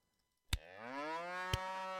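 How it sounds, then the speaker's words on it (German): A cow in the video game First Feudal lets out one long, drawn-out moo, framed by two sharp clicks, fairly close and clear against a quiet background. "Ja, wir haben noch ein paar Kühe."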